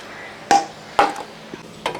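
Three sharp knife chops strike a cutting board about half a second apart, cutting coconut and onion, with a faint lighter tap between them.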